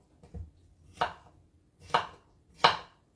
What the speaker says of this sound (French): j'ai une concombre. Ok, je le coupe en petits morceaux.